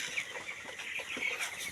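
Eighteen-day-old chicks clucking and cheeping softly in a quick, busy chorus, fairly faint and close with no talking.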